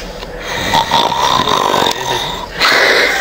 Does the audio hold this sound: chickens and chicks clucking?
no